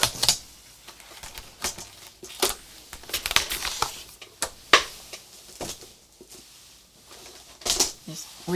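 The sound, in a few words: cutting paper collage sheet down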